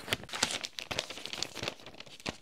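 Paper crinkles and tears close up as small toy animals are wrapped for a homemade advent calendar, a busy stream of rustling and crumpling with no talking.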